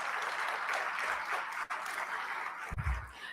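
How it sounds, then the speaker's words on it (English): An audience at a civic event on child care funding applauds steadily, a dense wash of clapping from many hands that carries on throughout, with a brief bump near the end. "deserves a round of applause"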